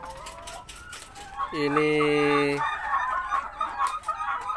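Laying hens on a poultry farm cluck close by, with a loud drawn-out crow rising in the middle and shorter calls around it; a voice speaks briefly.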